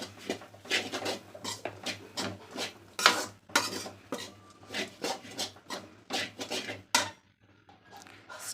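A spatula rasps and scrapes rhythmically across a pan as chapati noodles are stir-fried with chilli and Maggi masala, in close repeated strokes that pause briefly near the end.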